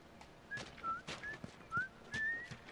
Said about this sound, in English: That's her whistling, right?